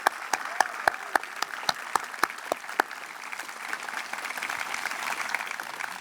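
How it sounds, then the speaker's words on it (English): A school commencement audience applauds at Sanford School: a run of sharp, separate claps at first, then a denser, softer wash of clapping that carries on evenly to the end. "Can we give Fadima and Louisabella another big round of applause?"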